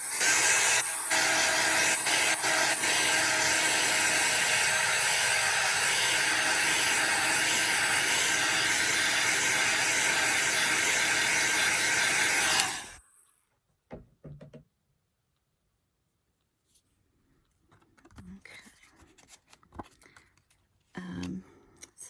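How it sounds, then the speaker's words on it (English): Heat gun blasting a loud, steady broadband whoosh to dry stamped ink on a handmade card, running continuously for about twelve seconds before cutting off, followed by faint handling noises. "I guess I will heat it with the heat gun for a second."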